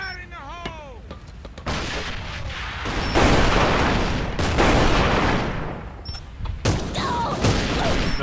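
Gunfire and a grenade blast in the online shooter A.V.A, with dense, loud bursts of shots and booms rolling through the middle of the match, broken by short quieter gaps and a brief voice early on.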